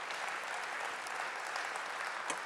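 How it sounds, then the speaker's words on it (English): An audience at the Iowa Ag Summit applauds, a dense, fairly distant wash of clapping that holds steady for a couple of seconds with no voices over it. "I think that deserves applause"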